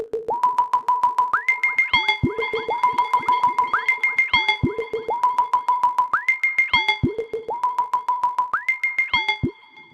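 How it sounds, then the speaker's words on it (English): A looping lo-fi electronic beat of plucky, rising synth tones repeats steadily, each note trailed by quick echoing delay repeats that fade under the next. "And we've got an echo, which is, of course, a delay."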